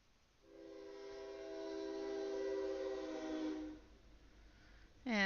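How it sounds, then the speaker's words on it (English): An Amtrak train sounds a long, sustained horn blast, faint and distant, that fades away; a second blast starts just before the end. "And the Amtrak says hello."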